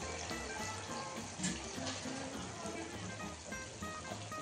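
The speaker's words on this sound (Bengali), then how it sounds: "এর মধ্যে গরম জলটা দিয়ে দিচ্ছি।" Hot water is poured into a pot of Bengali basanti polao, sweet yellow rice, cooking on a low gas flame. The pour makes a steady, dense splashing rush that runs throughout at close range.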